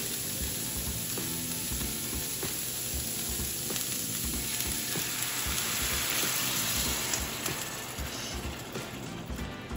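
Cheeseburger macaroni of pasta and beef sizzles hard in a pan right after beef broth is added, a loud, steady frying hiss with faint stirring scrapes and no talk.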